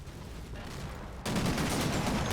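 Gunfire in the Combat Mission Final Blitzkrieg wargame at Stavelot, a muffled rattle of small-arms fire that swells into a louder, denser burst halfway through, heard at a distance.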